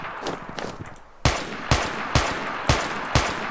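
Dragunov sniper rifle shots in a Minecraft guns minigame: four sharp, loud cracks spaced about half a second apart after a brief stretch of softer scattered noise.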